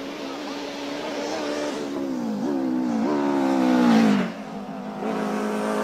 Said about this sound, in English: One of my favorite cars here, Arnie, the Honda Type R four-cylinder. But this has got a sequential box as opposed to the six-speed manual box.